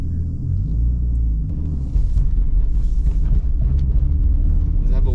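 A 500hp BMW 335i drift car with a single turbo and welded diff rumbles low and loud from the cabin while driving, growing stronger partway through, with voices talking over it.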